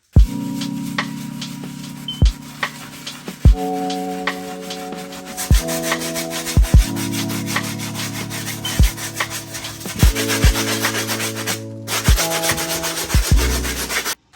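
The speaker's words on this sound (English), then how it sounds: "I'm going to use a medium texture brush to clean up the uppers" A medium-texture brush scrubs the uppers of White Cement Air Jordan 4 sneakers with rejuvenator, making loud, close, rhythmic back-and-forth rasping strokes in repeated bursts, without talking.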